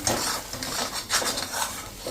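A spoon scrapes and clatters against metal pots while a potato and pea samosa filling is moved into another vessel. The clinks and scrapes are close, busy and irregular, with no voices.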